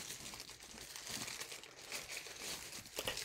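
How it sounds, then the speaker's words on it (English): Paper crinkling and crackling in short, soft bursts as it is reverse folded into an origami dragon, close and quiet with no voices. "we're gonna reverse fold here"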